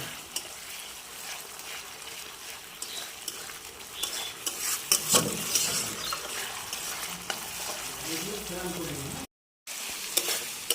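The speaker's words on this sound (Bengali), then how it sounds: "এই দেখো মশলাটা কি সুন্দর কষানো হয়ে যাচ্ছে" Spice masala for raw banana kofta stir-fried in oil with a little water, a steady sizzle and frying hiss with scraping stirs of a spoon against the pan, continuous and fairly close, with a brief dropout near the end.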